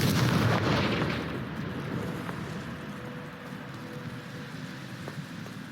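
A Confringo fire spell explodes in Hogwarts Legacy on PC, a loud broadband blast at the start that decays into a long, rumbling, crackling tail with no talking.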